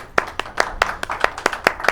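Live audience clapping for a singer at a local talk show taping, a steady run of sharp, fairly close handclaps over about two seconds with faint murmur underneath.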